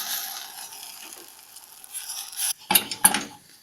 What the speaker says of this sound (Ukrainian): Як все закипіло, додаємо муку і дуже швидко перемішуємо.